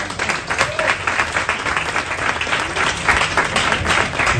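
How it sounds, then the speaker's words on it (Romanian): Audience at a stand-up comedy show breaking into loud, dense applause, a steady wash of many hands clapping throughout with no pause. "Haideți să vin cu aplauze pe Tomescu Marius."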